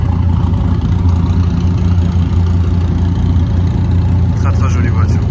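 A car engine runs steadily at idle, a dense low rumble close by throughout, with faint voices murmuring beneath it.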